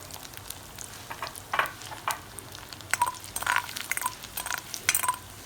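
Ginger pieces fry in a pan with a low continuous sizzle, while a spoon stirs and clinks against the metal pan in scattered bright taps.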